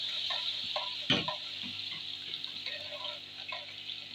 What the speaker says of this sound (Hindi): इसमें अच्छी तरह भूनूंगी।